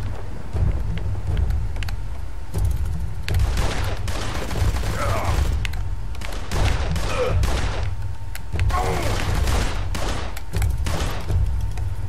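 Gunfire rattles in the detective video game Blues and Bullets, irregular bursts of shots over a constant low rumbling wind-like bed, loud and continuous through the stretch.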